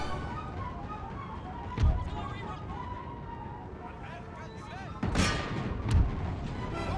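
Two or three deep booms from 12-pounder cannon in Empire: Total War punch through a busy battlefield din of crackle and distant clatter, while a voice talks over the action.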